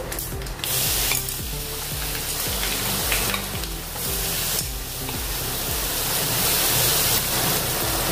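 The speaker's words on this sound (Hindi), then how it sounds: "अभी राई तड़तड़ने लगी है।" Mustard seeds crackle and pop in hot oil over a loud, steady sizzle, close up and continuous.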